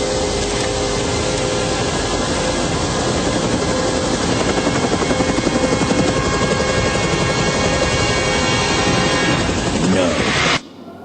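V-212 helicopter in flight, a loud, steady rotor and engine roar with thumping blade rhythm that holds for about ten seconds and then cuts off abruptly, with a voice speaking over it.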